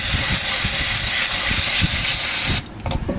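Brake cleaner degreaser sprays in one continuous, loud, close hiss onto an oily threaded part, then cuts off abruptly, leaving a few faint handling sounds.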